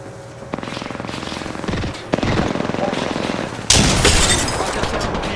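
Apex Legends gunfire during sniper gameplay: rapid automatic bursts that grow heavier in stages, ending in a loud, sustained volley of shots and impacts.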